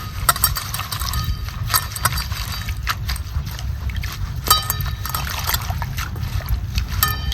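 Mint leaves are swished and rinsed in water, giving close splashing, trickling and dripping with repeated sharp splatters over a low rumbling background, no voices.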